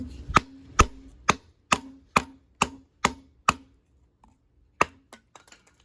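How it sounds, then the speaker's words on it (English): Huntsman production-model knife cross-batoning wood to test its edge: eight sharp, evenly spaced knocks of a baton striking the blade, close and crisp, followed by a pause and a few softer, quicker taps. "let's do a little bit of cross baton and test that edge"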